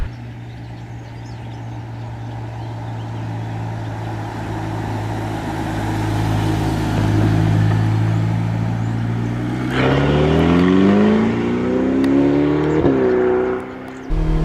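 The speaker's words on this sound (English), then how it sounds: "this is a retractable hardtop convertible. So with the press of this button here, in 14 seconds, we now have an entirely different driving experience" The retractable hardtop roof of a Ferrari Portofino opens after a button press, with a low steady hum under an idling engine, then a rising mechanical whine and whir as the roof moves, ending in a brief clunk.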